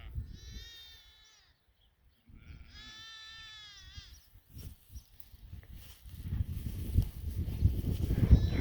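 Sheep and lambs bleat in a field, two loud drawn-out wavering calls close by in the first half, followed by rustling and rising low rumble of handling and movement.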